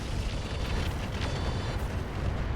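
LRM missile barrage in the mech combat video game RogueTech: a dense, continuous rumble of overlapping explosive bursts and booms, loud and sustained throughout with no speech.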